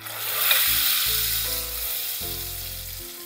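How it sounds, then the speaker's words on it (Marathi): Hot tempering of mustard seeds, cumin and dried red chillies poured onto a sesame dish sizzles loudly, with the hiss surging at the pour and then settling into a steady sizzle, while a low electronic tune plays underneath. "आणि ही फोडणी आता यावरती आपण ऍड करूया"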